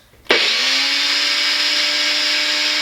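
A blender kicks on suddenly and runs loud and steady, whirring a mix of orange and turmeric for a face mask, its motor whine holding at an even pitch until the end.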